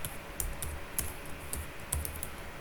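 Computer keyboard keys tapped while entering code, quick irregular clicks with a few louder strokes, close and clear with no voice over them.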